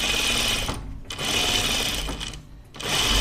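Industrial sewing machine stitching a dress, a loud, fast mechanical whirring buzz run in bursts with two short pauses where the stitching stops and restarts.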